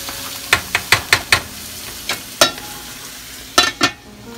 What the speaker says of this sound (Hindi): अब ये देखिए घी में भून रहा है और इसकी खुशबू भी बहुत अच्छी आ रही है।